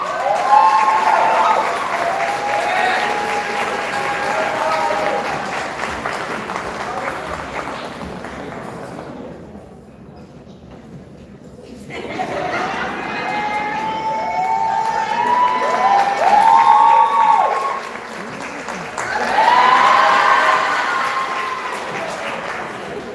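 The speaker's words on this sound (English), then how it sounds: "A round of applause" An audience at a secondary school awards ceremony breaks into sustained applause for an arriving awardee, a dense wash of clapping with some cheering that dips briefly midway, then swells again over a sound system.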